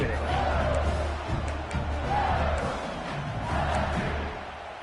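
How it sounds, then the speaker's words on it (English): A large stadium crowd at a football game roars and yells continuously, a dense wall of loud cheering and shouting that swells and dips slightly but never stops. "for an entire game, they are on their feet, yelling, screaming."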